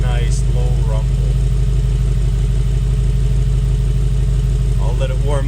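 A 2019 Mercedes-AMG G63 SUV engine idles with a steady low rumble, continuous throughout, with a person talking briefly near the start and end.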